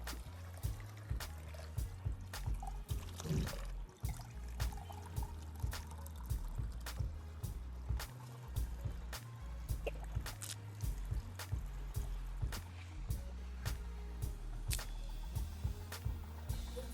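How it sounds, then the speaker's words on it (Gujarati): Diesel pouring steadily into a barrel, a continuous gurgling flow with regular sharp knocks and drips throughout. "ડીઝલ ભરવા ચાલુ કરી દીધું"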